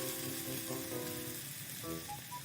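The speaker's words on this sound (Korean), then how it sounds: "고기가 익었을 때 고춧가루를 넣어 볶으세요." Chili flakes stir-fried with cooked meat for soft tofu stew make a quiet, continuous sizzle in the pan, with soft tonal notes running over it.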